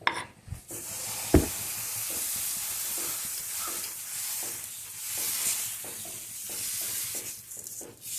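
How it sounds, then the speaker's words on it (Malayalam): Elanchi dosa batter sizzles and hisses continuously on a hot tawa, soft and close, with a couple of brief metallic clinks near the start. "ഇനി നമുക്കിതിൽ ദോശ ഉണ്ടാക്കാം."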